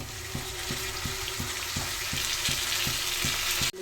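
Tomatoes sizzle in a pan for bisi bele bath, a constant frying hiss broken by regular scraping knocks as the mixture is stirred, with a final clack at the end.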